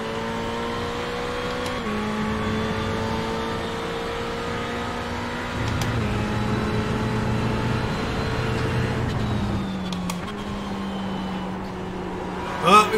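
A Ferrari 488 GT3 race car in the iRacing sim races along, its turbocharged engine droning and shifting pitch through gear changes, with a wastegate hiss when the throttle lifts, under occasional commentary.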